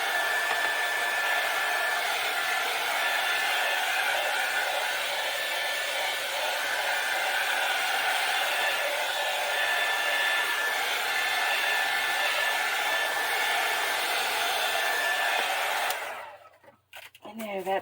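A hair dryer blows steadily and loudly for about sixteen seconds, then switches off and winds down, leaving near silence.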